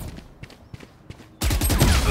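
Gunfire in the video game Valorant during a round with the spike planted: a few faint, quiet shots, then a sudden loud, dense burst of shooting that carries on to the end.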